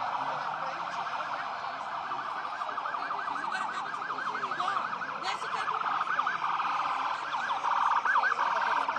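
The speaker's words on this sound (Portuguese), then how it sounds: "Essa é uma viatura de transporte de presos saindo, sirene ligada" Police prisoner-transport vehicle pulling away from a police station in Carapicuíba, São Paulo, its siren wailing steadily and fairly close throughout, with rapid warbling cycles over a busy street background.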